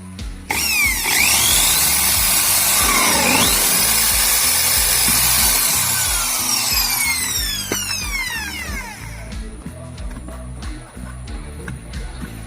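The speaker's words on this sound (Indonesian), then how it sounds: "Oke, jadi di sini tinggal kita lubangi aja ya teman-teman." A power drill whines loudly while boring a hole in a car's body to mount a parking sensor. The pitch sweeps up and down for about eight seconds, then the sound drops away to quieter handling noise.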